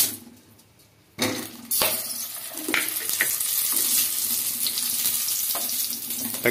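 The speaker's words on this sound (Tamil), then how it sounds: "இப்போ நம்ம தக்காளியை வதக்கிடலாம்." Whole tomatoes sautéing in a spoonful of groundnut oil for a drumstick-leaf chutney, giving a steady close sizzle and frying hiss that starts abruptly after a quiet second and continues with occasional clinks of a utensil.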